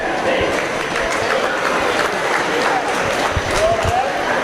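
Audience clapping at a swine show, a steady broadband patter of many hands filling the arena, with crowd murmur and livestock-barn ambience underneath.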